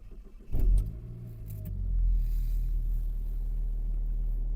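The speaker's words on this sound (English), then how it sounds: "we will start this bad boy up. Of course we could roll down the windows a little bit to hear the engine purr" A SAAB 9-5 Aero with a Stage 1 tune cranks and fires, jangling keys first, then a brief surge as it catches before settling into a steady, low idle rumble heard from inside the car.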